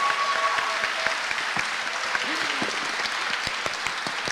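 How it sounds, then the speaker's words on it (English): Audience applause for children at a school leadership lecture, steady and continuous with scattered distinct nearby claps, plus faint voices and a brief whistle-like tone in the room. "can we have a round of applause for these kids?"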